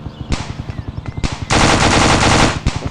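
Automatic rifle fire in the shooting game Dude Theft Wars: several short, rapid bursts, then one long sustained burst, then another quick volley, all loud and close with no talking.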